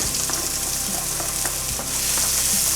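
Shallot and garlic sizzle steadily in hot oil in a pan, a dense continuous frying hiss with a few light clicks of stirring, close and fairly loud throughout.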